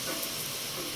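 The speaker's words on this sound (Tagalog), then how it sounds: "Lagyan ng mantika yung kasirola, igisa na natin yung bawang, tapos isunod na natin yung sibuyas" Garlic and onion sauté in cooking oil in a casserole pot, a steady close sizzle and crackle of frying that holds evenly without a pause.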